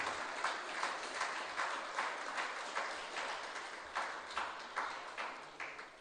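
Audience applause fills the hall at the Sandy Point Benevolent Society 5th Annual Awards Ceremony in 2025: a steady, dense wash of clapping with rhythmic swells that lasts the whole stretch.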